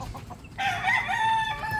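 Mitrablue Speeder grey chickens on a farm call close by: a brief cluck is followed by a loud, drawn-out crow that rises and holds, with no talking.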